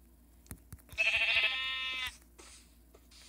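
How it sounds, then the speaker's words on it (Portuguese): A sheep bleats once in the video game Minecraft, a single drawn-out harmonic bleat lasting about a second, with faint soft game noises and light clicks around it. "Olha, ovelha."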